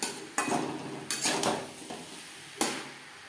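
A spoon scrapes and clanks against a pan while fish roe and potato are stirred together, producing a few loud, separate scraping strokes with brief pauses between them and no voices.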